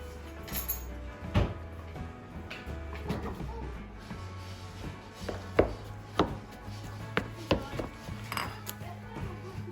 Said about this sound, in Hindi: आलू बॉईल हो चुके हैं। अब हम इनको अच्छी तरह से मैश कर लेंगे।